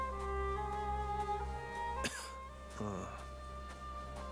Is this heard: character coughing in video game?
yes